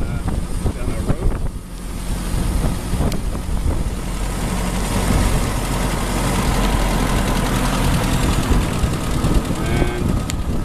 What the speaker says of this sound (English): Doing about 20 miles an hour down our road.